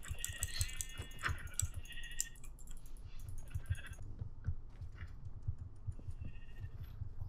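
Sheep in the Minecraft video game bleat in a few short nasal calls, mixed with rapid keyboard clicking and soft game sounds throughout.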